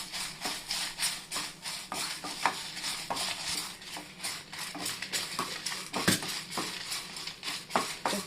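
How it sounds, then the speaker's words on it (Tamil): Salt and dried red chillies dry-roasting in a kadai for sambar powder, with constant close scraping and stirring, rattling grains and light sizzle throughout. "உப்பு லைட்டாக போட்டு வறுக்கிறது எதுக்குன்னா ரொம்ப நாளைக்கு நல்லாயிருக்கும்"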